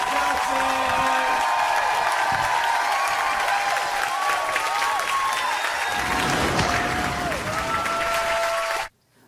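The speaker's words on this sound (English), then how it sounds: "Start clapping, make some noise." A large comedy club crowd claps and cheers loudly and continuously, with whoops rising over the applause before it cuts off abruptly at the end.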